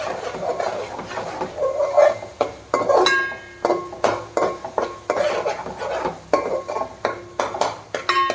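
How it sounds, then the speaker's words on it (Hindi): Mutton fries in a pan in a home kitchen while a metal spoon stirs it, giving rhythmic scraping clinks against the pan over a soft sizzle, close and repeated. "इसका कच्चापन जाने तक अच्छा भून लेंगे इसे"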